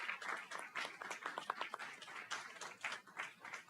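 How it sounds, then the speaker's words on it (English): Scattered clapping from a small audience at an awards presentation, fairly faint and uneven, with individual claps standing out across a few seconds. "Huge round of applause."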